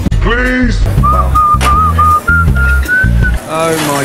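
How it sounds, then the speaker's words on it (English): A person whistles a wavering tune in short bursts, close and clear, in a busy restaurant kitchen while a voice talks and a low rhythmic background plays underneath. "Will you stop whistling?"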